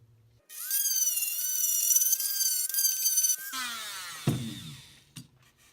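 A small rotary stone bit whines at high speed against the intake port of an LS2 engine during porting, one sustained close grinding run that winds down with a brief clunk and trailing rattle.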